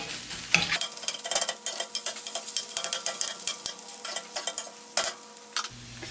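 Eggs and spinach being chopped and scrambled in a pan for a burrito, with rapid repeated spatula scrapes and taps over a continuous sizzle, close up and fairly loud, no speech.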